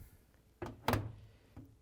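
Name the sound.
LG/Kenmore washer door being closed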